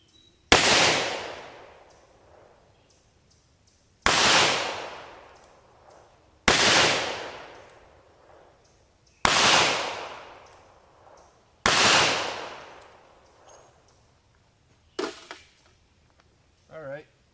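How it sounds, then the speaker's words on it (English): Five sharp .38 caliber gunshots using copper plated bullets over Titegroup powder, fired at 25 yards outdoors, each a loud close crack with a long fading tail, evenly spaced every few seconds, followed by a couple of faint knocks. "time to get shooting"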